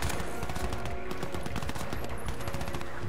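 Dense, continuous bursts of automatic enemy gunfire in the shooter game Crysis 3, a loud unbroken barrage of overlapping rapid shots with no talking.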